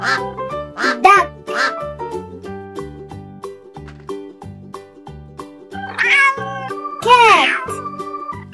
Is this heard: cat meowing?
yes